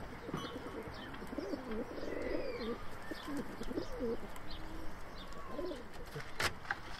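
Sivas game pigeons coo steadily in a loft, soft rolling calls repeating close by with light chirps and occasional wing rustles mixed in.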